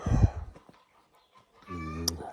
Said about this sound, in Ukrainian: Кури.